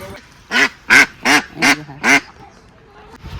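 Five loud, nasal quacks in a quick, even series from nearby ducks, followed by quiet background.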